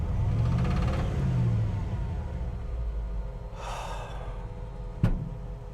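A Jeep Gladiator engine with a fault gives off a rough, low, labored running noise, loud and close, with a brief whooshing burst and a sharp click near the end.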